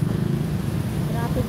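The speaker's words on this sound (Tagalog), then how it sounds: "Ayan o, gabi na, traffic pa rin. Puro motor, saka malalaki yun o" Steady rumble of night road traffic with engines droning continuously, many motorcycles and large vehicles among the passing traffic, loud and close throughout.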